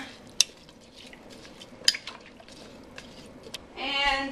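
A spoon clinks twice against a crock pot, then scrapes briefly while chopped garlic is stirred into the chicken.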